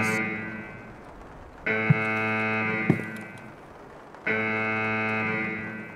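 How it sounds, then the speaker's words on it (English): A loud electronic alarm blaring in Escape From Tarkov, a steady buzzing horn-like tone cycling on and off in long repeated blasts, with a couple of sharp thuds in between. "I fucking hate that alarm"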